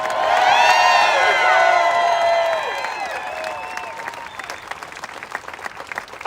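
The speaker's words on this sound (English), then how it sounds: "Our law enforcement brothers and sisters out there, can we cheer for them?" Rally crowd at an outdoor freedom rally in Olympia cheering and applauding for law enforcement: loud, dense clapping with whoops and shouts for about three seconds, then tapering into scattered claps and fading cheers.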